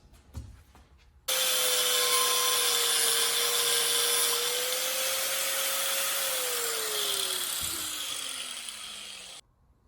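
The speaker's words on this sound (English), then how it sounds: "use the cutoff wheel, because that is the cleanest way I found" Cutoff wheel slicing through a rubber coolant hose during a Toyota Celica 3SGE Beams engine swap, a steady high-pitched whirring grind that starts abruptly, holds for several seconds while the pitch slowly drops, then cuts off.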